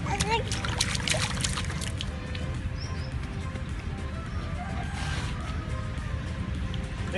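A child splashes water in a bucket before a bath. Bursts of splashing and sloshing come early, then give way to steady trickling, with voices talking throughout.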